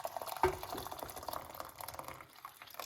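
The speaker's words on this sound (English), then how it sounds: "Put some hot water." Hot water poured into a pot for clove tea: a brief, soft splashing trickle with a small clink near the start, fairly quiet and close.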